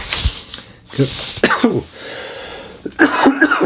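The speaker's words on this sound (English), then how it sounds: "And Plenty of Dust, which is making me cough." Several harsh, explosive coughs from dust off vinyl records at a car boot sale, in quick bursts, close to the microphone, separated by short pauses.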